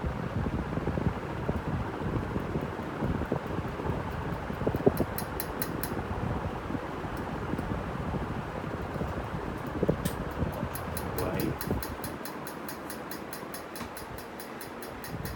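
KDK industrial ceiling fan, model B56X5 from 2004 with a round globe, running at its top fifth speed: a steady, loud broadband whoosh of rushing air with a faint rattle, easing off slightly near the end.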